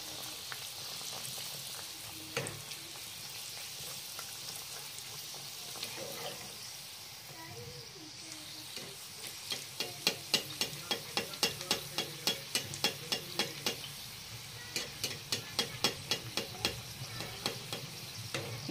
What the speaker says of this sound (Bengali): এইভাবে সব পুরিগুলো ভাজলে খাওয়ার জন্য রেডি